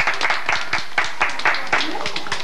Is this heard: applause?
yes